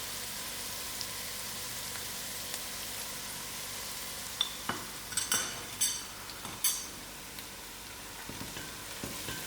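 Masala spices frying in a pan for a hot, dry venison curry: a steady soft sizzle underneath, broken by several sharp clinks and scrapes of a utensil stirring against the pan midway.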